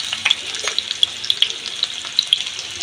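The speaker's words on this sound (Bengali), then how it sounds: "কাতলা মাছের ভাজিটা কিন্তু ফ্রাইটা খুব সুন্দর করে হয়ে এসেছে" Katla fish fries in hot oil, a close, bright continuous sizzle dotted with rapid small pops and spits throughout.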